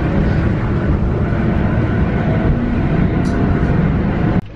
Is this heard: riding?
yes